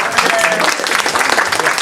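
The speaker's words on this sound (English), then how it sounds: "Are you ready to clap now?" An audience at a book talk on Pittsburgh's historic stadiums and arenas breaks into loud, close clapping, a dense steady burst with some voices mixed in.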